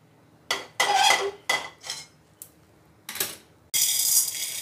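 Roasted chana dal scraped and tipped out of a pan, giving a series of short metallic clinks and scrapes of a spoon against the pan, close and fairly quiet, with brief pauses between strokes.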